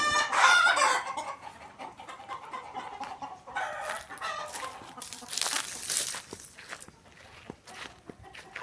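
Native country chickens on a farm cluck repeatedly, and a rooster crows nearby. Scratching and footstep-like shuffles come through between the calls in an outdoor setting.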